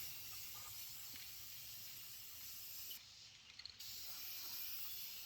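Rust-Oleum black spray paint sprayed onto a Jeep Cherokee, a steady close hiss that runs almost continuously, with one short break of quieter clicks before the spray resumes.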